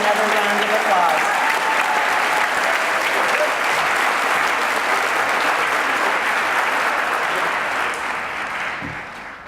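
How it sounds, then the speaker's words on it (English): A school audience at a high school academic awards ceremony applauds junior achievers, steady sustained clapping that fills the hall and slowly fades in the last seconds. "Let's give all of our junior academic achievers another round of applause."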